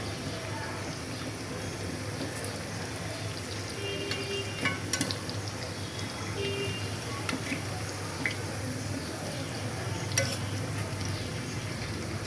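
Sliced onions fry in a pan and get flipped over, giving a soft, steady sizzle with scattered scraping and clinking from the utensil at a few points.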